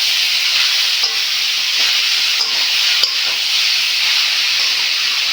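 Banana flower and potato stir-fried in a pan, giving a steady, close frying hiss with faint scraping stir sounds throughout and no talk.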